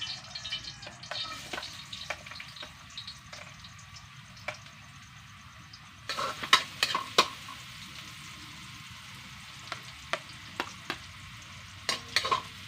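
Chopped ginger frying in a pan for Kapampangan-style ginataang kuhol, a steady soft sizzle with scattered sharper clicks and scrapes of stirring that grow busier halfway through, close by with no talk.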